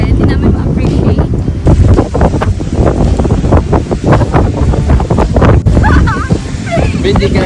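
Strong wind roars constantly across the microphone, loud and buffeting, with water sounds underneath and voices talking through it, on a coastal tour in Legazpi City, Bicol.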